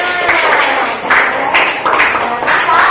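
A classroom of students claps for a classmate, loud uneven bursts of clapping mixed with children's voices and chatter throughout.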